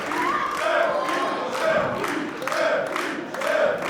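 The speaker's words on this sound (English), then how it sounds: "cheering for Mays" A crowd cheers at a wXw pro wrestling event in the Markthalle in Hamburg, its voices swelling in repeated rhythmic waves, like a chant, with a steady roar from the hall beneath.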